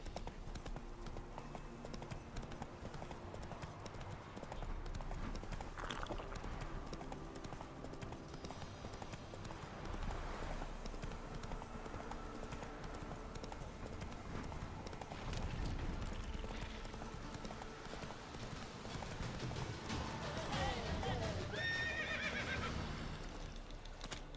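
Roach, a horse in the video game The Witcher 3, trots with steady clip-clop hoofbeats under a constant background bed, and near the end it gives a clear whinny.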